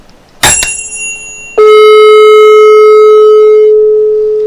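A 440 hertz tone rings out loud and sustained as it resonates inside a box tuned to that length, following a short sharp strike, then slowly decays with no voices.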